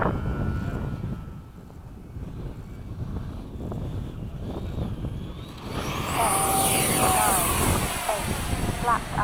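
An FMS 70mm F/A-18 model jet whooshes past during a touch and go at an airfield, with a rising high ducted-fan whine over wind noise on the microphone.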